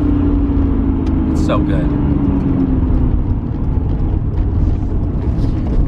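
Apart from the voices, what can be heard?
Nissan Skyline R33 GT-R engine while driving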